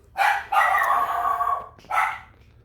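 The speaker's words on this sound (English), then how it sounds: "Sorry about the dog." A dog barks close by: a short yelp, a long drawn-out howling bark, then another sharp bark.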